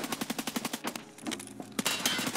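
Enemy gunfire in the video game Escape from Tarkov Arena, a rapid automatic burst of evenly spaced shots followed by a short pause and then more scattered shots, loud and close.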